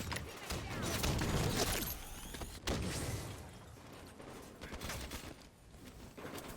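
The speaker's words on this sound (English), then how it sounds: "Why is this guy shooting me in the back?" Bursts of automatic gunfire in a first-person shooter video game, loud rapid rattling volleys with a sharp crack partway through, followed by quieter scattered shots and game noise.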